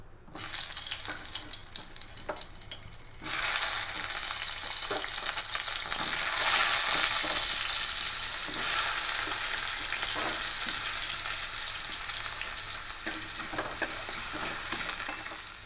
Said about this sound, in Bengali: এবার আলুগুলো তেলে দেবো দিয়ে একটু হালকা করে ভেজে নেব